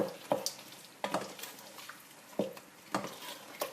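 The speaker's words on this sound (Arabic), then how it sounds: "نحرك خليها تتقلى" Ground sweet paprika and spices fry in oil in a pot for lentil soup as a ladle stirs them, giving several sharp scraping strokes over a soft, steady sizzle.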